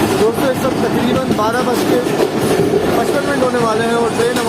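Fareed Express train on the Lahore to Karachi line approaching a station, a loud, continuous rumble and rattle of rolling carriages with squealing tones from the wheels, a voice talking over it.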